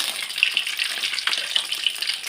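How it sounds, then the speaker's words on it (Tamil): Masala-coated cauliflower deep-fries for Gobi Manchurian, a bright, bubbling sizzle with quick crackles, steady and close throughout. "இப்போ இதை அப்படியே ஃப்ரை பண்ணி எடுத்துப்போம்."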